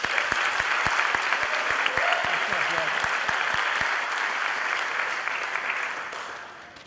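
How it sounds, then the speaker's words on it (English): Applause from the audience at a 2015 RVTC awards night, a sustained wash of many hands clapping at moderate level with a few sharp nearby claps, gradually tapering off. "give him a big round of applause"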